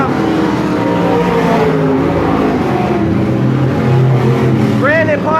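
Race cars roaring around the oval at Sunset Speedway in Oregon, a steady loud engine drone with shifting pitch as cars pass, under a race announcer's running commentary.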